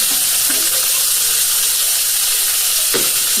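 Tomato and onion sauté in a drumstick curry over a wood-fired clay stove, giving a dense, even, hissing sizzle close by with a brief scrape near the end.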